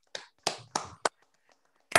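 Scattered applause from an online audience through open microphones: a handful of separate, sharp clapping bursts with quiet gaps between them, ending in a fuller burst.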